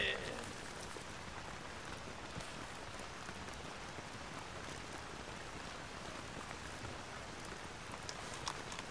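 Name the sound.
rain in video game Arma 3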